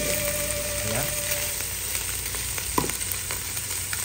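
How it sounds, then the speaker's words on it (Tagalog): Corned beef and hotdog sizzle steadily in a hot pan for Filipino-style spaghetti sauce, a continuous frying crackle with a few brief stirring scrapes and no talking. "Gisa-gisa lang po natin ang ating corned beef at ang ating hotdog"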